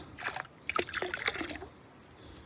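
Water trickles and sloshes over gravel swirled in a gold pan, a close run of splashes and dribbles that fades out toward the end.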